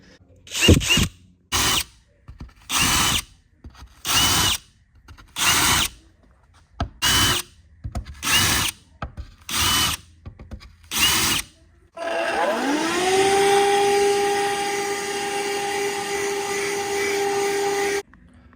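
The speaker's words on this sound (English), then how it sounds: "Chamfer these holes slightly so our shorties' heads fit right in there." A power drill chamfering screw holes on a custom Archer Flight build: about ten short, loud whirring bursts in quick succession, then one longer sustained run of the motor at a steady pitch.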